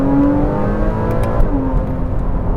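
A Porsche engine in Sport Plus mode pulls hard, a loud, close steady drone from inside the car with the pitch climbing, then dropping at a quick gear shift before climbing again.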